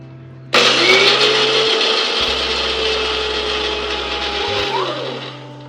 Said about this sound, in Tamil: கேஷ் நட்டை வந்து பவுடராக அரைக்க போகிறோம்.